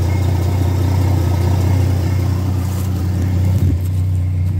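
A 1964 Pontiac engine idles steadily with a deep, low rumble through a new Thrush exhaust, close by and continuous, with a brief dip near the end.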